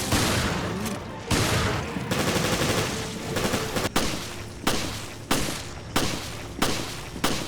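Gunfire from the Resident Evil Revelations campaign begins as a loud, dense barrage of rapid shots and booms. It then settles into single heavy shots spaced evenly about once every half-second.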